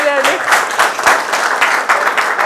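A workshop audience applauding a volunteer, a brisk burst of many hands clapping together, close and loud, with voices talking over it.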